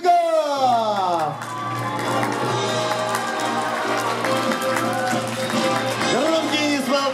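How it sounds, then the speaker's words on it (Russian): Audience applause and cheering at a youth film festival red carpet in Moscow, steady dense clapping under a voice speaking over a sound system, with music in the background. "Громкие и сволкающие аплодисменты."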